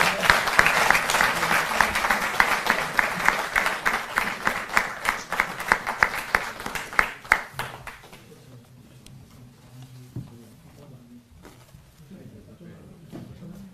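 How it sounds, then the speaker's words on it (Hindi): An audience at an official government gathering bursts into strong applause for a revenue minister and senior officials, dense clapping for about eight seconds before fading into quieter room noise. "जोरदार तालियां।"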